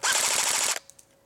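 A G&G GR4 G26 blowback airsoft electric rifle, powered by a 9.6 volt battery, fires one loud, steady full-auto burst of rapid, evenly spaced shots lasting under a second, followed by a few faint mechanical clicks.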